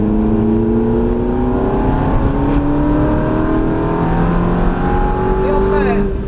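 Ferrari F430 F1 on the Mérignac race circuit, engine loud and continuous from inside the car as revs climb and shift steadily, with an instructor's voice audible over the noise.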